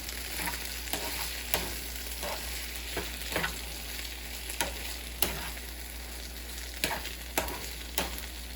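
Spam fried rice cooking in a pan, a soft continuous sizzle with regular scraping strokes from stirring at roughly one-second intervals, close and moderate in level.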